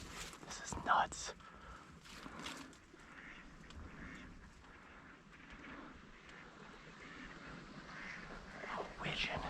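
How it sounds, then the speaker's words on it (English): Wigeon and other ducks call across water in thick fog on a hunt, a faint scattered chorus of quacks and whistles under hushed, whispered talk and occasional rustling footsteps. "Oh, widgeon."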